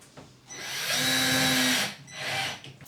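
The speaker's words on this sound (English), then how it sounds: "you can then let go, and then you can just proceed to put your other screws in." A power drill drives screws into bathroom ceiling cladding with a loud whirring burst of about a second and a half, then a brief pause and a second, shorter whir.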